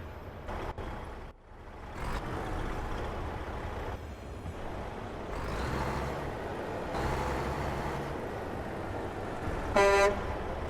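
Truck engine in American Truck Simulator, a steady low drone and road rumble running throughout, with a brief horn-like toot near the end.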